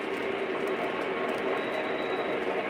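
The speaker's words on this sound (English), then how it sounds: "I'm gonna get this GP30 off the main line." A model GP30 locomotive running on a layout's track, a steady, continuous rolling rumble with a faint metallic whine, close and unbroken throughout.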